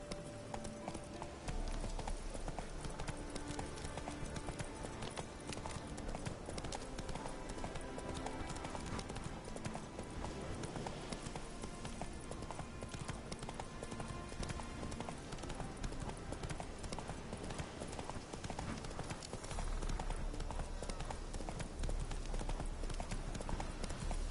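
A horse trots steadily in The Witcher 3, and its hooves clip-clop in a continuous even rhythm under the game's ambient sound.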